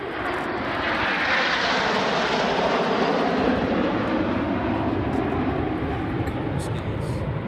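Red Arrows jets make a smoke-on pass at the Southport Airshow, a loud, steady jet roar that swells and sweeps across the whole stretch with no break.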